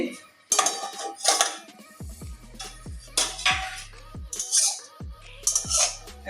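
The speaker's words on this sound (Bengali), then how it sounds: "এবারে ঢাকনাটা খুলছি" A metal lid comes off a cooking pot amid a series of sharp clanks and clinks of metal cookware, several distinct knocks with ringing tails at close range.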